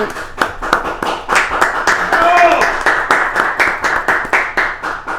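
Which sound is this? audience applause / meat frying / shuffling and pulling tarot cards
audience applause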